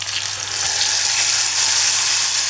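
Ground green chutney hitting hot oil in a kadhai, producing a loud, close, continuous sizzle that holds steady for the whole stretch, with no voices.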